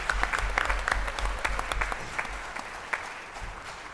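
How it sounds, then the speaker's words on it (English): A modest audience at a school board meeting applauds, a short round of clapping with distinct individual claps that thins out over a few seconds. "we can applaud that"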